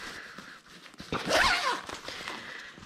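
Zips on the side of an Out n About Nipper single pushchair seat are pulled open, giving a short close zipping rasp around the middle with light handling rustles before and after.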